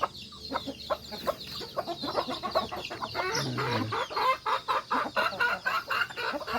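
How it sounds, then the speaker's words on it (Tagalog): Native chickens on a farm in Davao City cluck in a busy, overlapping chorus, with short repeated clucks close by and a low throaty call partway through. "Ito lang yung aming mga manok."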